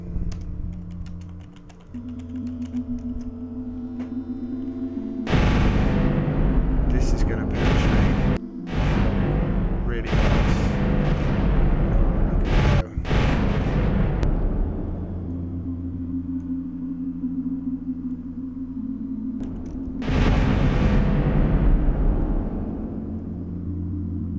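Turret weapons in Starmade fire in bursts at a target ship, loud broadband blasts and crackling impacts in clustered volleys over a steady hum, no talk.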